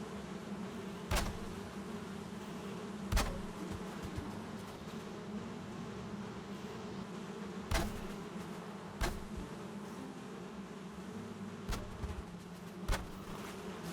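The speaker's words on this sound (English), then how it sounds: "those bees are still coming out, so I think they're happy little bees" Honey bees buzz steadily around a hive: a continuous low drone at moderate volume, broken by a few sharp knocks.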